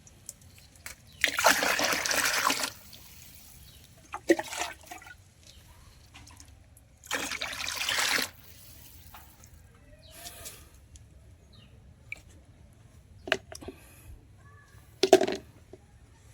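Water is poured and mixed with plant fertilizer in a container, heard as several separate bursts of splashing and pouring, close by, with quiet gaps and small drips between them.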